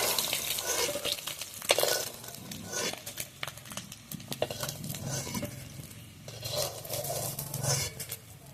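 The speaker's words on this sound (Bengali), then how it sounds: "এই ডিমগুলো আমি ভালোভাবে লাল লাল করে ভেজে নেব" Eggs frying in hot oil in a pan, a close crackling sizzle with bursts of spattering and stirring scrapes rising and falling.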